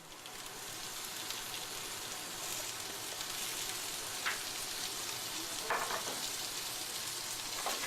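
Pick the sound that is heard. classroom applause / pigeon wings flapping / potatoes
potatoes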